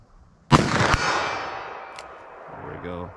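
A .44 Magnum handgun firing Hornady rounds at an outdoor range: a loud sharp shot with a ringing tail, then a second crack moments later, followed by quieter range noise and a brief voice at the end.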